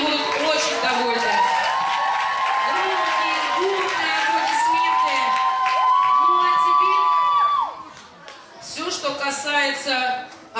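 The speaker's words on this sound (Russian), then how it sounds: "если вы им подарите еще аплодисменты" Children cheer, shout and whoop loudly at a camp counselors' concert, the crowd noise sustained and high-pitched, with scattered clapping underneath before it breaks up into uneven bursts near the end.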